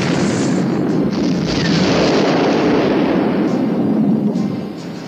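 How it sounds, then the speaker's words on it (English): Massive, continuous rumbling explosions roar from a burning, heavily loaded cargo ship in a cartoon tugboat scene, loud and sustained with no talk over them. "God, they were really big explosions."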